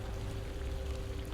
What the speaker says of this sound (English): A massive torrent of water blocking the path.